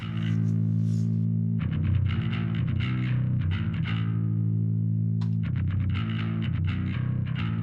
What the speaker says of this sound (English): so this is the regular bass.